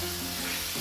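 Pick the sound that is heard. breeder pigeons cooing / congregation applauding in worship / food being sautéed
food being sautéed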